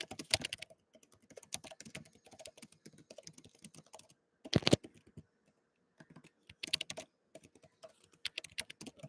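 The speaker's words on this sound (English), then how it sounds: "I'm typing up a lot here." Rapid bursts of typing on a computer keyboard, close and fairly quiet, with clustered keystrokes broken by short pauses and a louder flurry in the middle.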